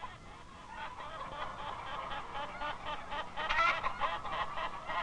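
Dense flock of poultry on a Georgia broiler farm, a steady clamor of overlapping clucks and honk-like calls that swells toward the end, no voices.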